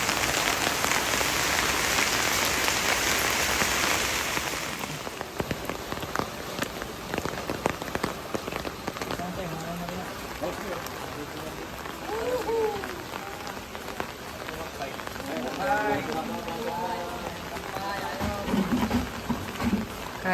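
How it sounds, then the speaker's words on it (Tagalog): Rain falls on a construction site, a dense loud hiss for the first few seconds that then eases into steadier patter mixed with scattered work noises and faint distant voices. "Umuulan."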